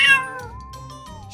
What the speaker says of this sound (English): The cat goes...